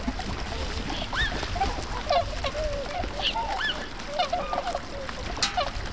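Overwintering tundra swans at a retention pond gather at morning feeding time, giving repeated soft honking and bugling calls from a flock at moderate distance over steady outdoor background noise.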